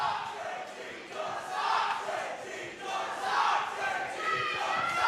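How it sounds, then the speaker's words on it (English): Loud, vocal crowd at an XWA championship wrestling match roars, cheers and shouts continuously in dense waves, with no pause for the full stretch. "Quite vocal crowd all night here."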